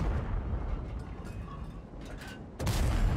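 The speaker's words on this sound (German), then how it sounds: "der Kollege da ist hier wild am Rumballern" Tank guns fire during a World of Tanks battle: a dense, rumbling wash of distant booms and shots, ending in a louder, sharper blast near the close.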